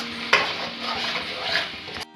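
Masala spices fry in a hot pan for a brief, dense sizzle that opens with a sharp clink and holds steady, loud and close, until it cuts off abruptly.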